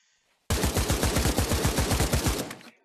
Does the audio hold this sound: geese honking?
no